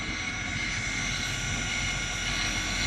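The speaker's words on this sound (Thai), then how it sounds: "มอเตอร์ทำงานแล้วครับ" A solar-powered AC three-phase pump motor running, driven from a high-voltage DC converter, gives a steady loud whirring hum with a high whine, constant and close, with no voices.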